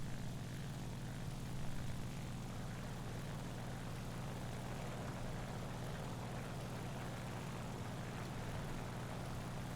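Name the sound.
Ki-94-II propeller aircraft engine climbing, War Thunder video game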